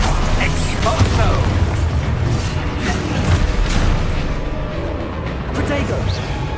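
Spell blasts and booming magical explosions in Hogwarts Legacy combat, a steady barrage of bursts and impacts layered over continuous game action with a voice calling out underneath.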